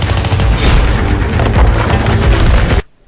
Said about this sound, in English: So all that rubble falling down, that is all real.